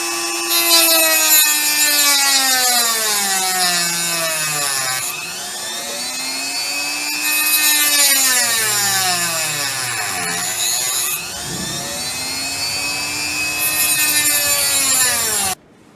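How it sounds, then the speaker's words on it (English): Rotary tool cutting string notches into a banjo nut, a loud, close, continuous high whine whose pitch swoops down and back up several times as the bit loads into the material, then cuts off at the end. "I'm going to use my rotary tool to make those cuts."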